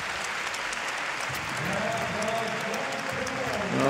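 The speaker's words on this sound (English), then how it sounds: "And he gets a big cheer, and rightly so." An arena audience at the Tokyo men's trampoline final breaks into steady applause and cheering after a routine, a dense roar of clapping that swells slightly toward the end.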